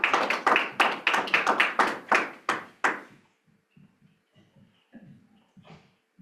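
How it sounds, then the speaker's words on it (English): A few people clapping for a speaker at a tech startup business event, sharp distinct claps in a quick uneven run for about three seconds, then stopping into quiet room noise with faint movement. "Round of applause for Philip Leach,"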